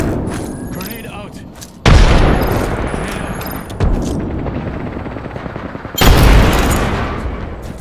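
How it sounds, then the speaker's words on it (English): In Apex Legends, a grenade blast and gunfire give three loud, sharp booms spaced a couple of seconds apart, each trailing off. Rapid gunfire and a droning engine run underneath, and a voice speaks. "Throwing grenade."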